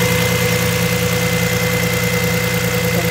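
Secondary air pump on an Audi A4 running while the engine idles, a steady loud droning hum with constant mechanical whine and vibration throughout, no voices.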